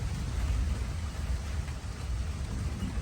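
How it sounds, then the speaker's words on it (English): Steady heavy rain pours down outdoors beside a garden, a dense continuous hiss with a deep low rumble of thunder rolling underneath throughout, loud and close with no voices. "here comes the rain"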